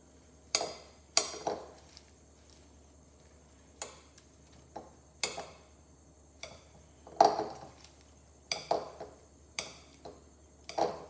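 Gozleme filling of chicken, feta and spinach is mixed in a bowl, giving a dozen or so separate clinks and scrapes of a utensil against the bowl at uneven intervals, close and fairly quiet, with silence between.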